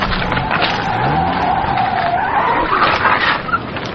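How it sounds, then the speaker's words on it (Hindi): Car tires skid and grind as they churn and sink into soft sand, a loud, continuous, close scraping roar with a rising and falling whine lasting several seconds. "नरम रेत में टायर धंस गया।"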